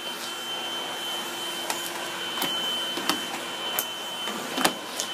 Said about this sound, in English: Vacuuming is fun